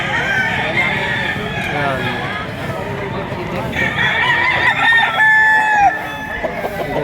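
Roosters crow over and over at a busy chicken market, loud and overlapping with clucking fowl, amid a crowded bustle with people talking throughout.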